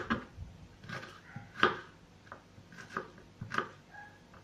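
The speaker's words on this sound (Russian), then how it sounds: "лук нарезаем мелким кубиком." A knife taps repeatedly on a cutting board in quick, uneven chops through an onion, close and fairly quiet, with short pauses between bursts.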